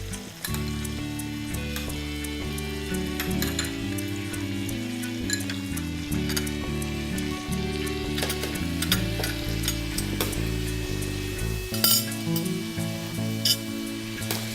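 Grated ripe tomato sofrito for paella sizzles in a pan over low heat while being stirred, a steady close frying hiss with occasional utensil clinks, under sustained tonal background music.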